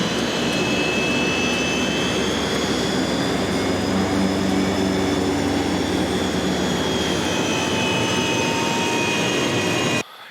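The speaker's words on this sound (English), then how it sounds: "I'll stick the engine noise on so you can" Loud, steady jet engine roar with a high whine from an FMA IA-58 Pucara aircraft in a flight simulator, continuous for about ten seconds before cutting off abruptly at the end.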